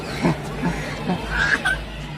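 Turkeys, a large one with small poults, at a theme park in Chennai give a few brief gobbling calls close by over background crowd murmur.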